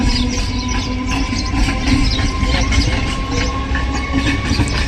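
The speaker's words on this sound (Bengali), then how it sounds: "কল্যাণী সীমান্ত লোকাল এখন এক নম্বর প্ল্যাটফর্ম থেকে ছেড়ে বেরিয়ে যাচ্ছে" A Kalyani Simanta local train pulls out of platform one at Dum Dum junction, with a steady loud rolling rumble, metallic rattling and rail clatter throughout and no talk.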